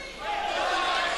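A boxing crowd at a bout between Souleymane M'Baye and Ameth Diaz swells into a sustained roar of cheering after a punch, heard from a distance as a broad, steady wash of voices.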